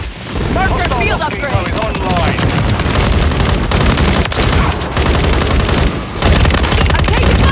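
Call of Duty gunfire, loud sustained automatic bursts and booms layered over a busy battle soundscape, with shouted voices mixed in throughout.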